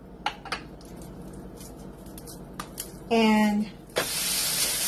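Peach burger patties go onto a hot grill and break into a loud, steady sizzle partway through, after a stretch of faint kitchen clatter, a brief tonal beep and a little talk.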